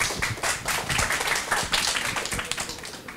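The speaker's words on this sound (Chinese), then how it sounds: "请掌声欢迎" An audience claps and applauds to welcome the next presenter at a tech talk on open source and testing, with steady, dense clapping throughout and a faint voice underneath.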